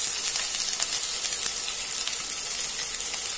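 Onion, fennel seeds, green chillies, mustard seeds and urad dal frying in hot oil for a South Indian chicken curry, giving a steady, close sizzle that holds at an even level throughout with no talking.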